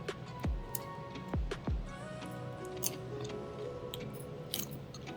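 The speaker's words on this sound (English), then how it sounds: "You can hear the sound, how crunchy they are." Someone bites into crunchy microwave-baked kurkure okra, giving a few sharp, close crunches early on and lighter chewing crackles afterward.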